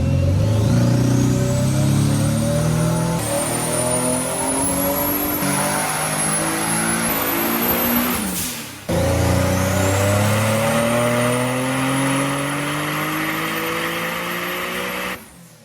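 A mid-mount turbo Nissan 370Z accelerates hard in two long pulls, the engine note climbing steadily through the gears with a rising turbo whine. A brief gap splits the pulls, and the sound is loud and close throughout.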